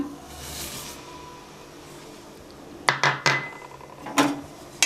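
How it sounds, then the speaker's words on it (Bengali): Utensil scraping and clinking against a pot while boiled milk with a little sugar is stirred, a few sharp knocks and scrapes standing out after a quieter stretch of low hiss. "চিনি দিয়ে ভালো করে আবার নেড়ে নিচ্ছি"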